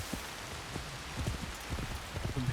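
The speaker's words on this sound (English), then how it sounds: "it's raining now" Rain pours in Assassin's Creed Shadows, a dense steady hiss of falling water with scattered heavier drops and faint thumps underneath, continuous and fairly loud with no talking.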